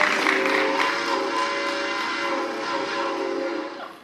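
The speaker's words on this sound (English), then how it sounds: "Okay, you just heard that train whistle." A distant train whistle sounds in a long, sustained tone that slowly fades away, heard during an outdoor school graduation ceremony.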